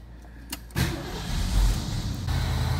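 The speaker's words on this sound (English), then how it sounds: "When I start this engine, the choke should be set enough for the high speed idle" A 1973 Ford Mustang convertible with a 302 two-barrel V8 cranks over briefly, then catches and settles into a steady, fairly quiet cold high idle with a low rumbling drone, no voices.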